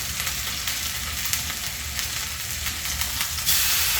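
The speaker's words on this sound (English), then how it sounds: "I seared the seasoned side down first, just to sear all the seasonings in there." Seasoned pork chops sear in a hot pan with a steady, loud, close sizzle and crackle throughout, with no voices.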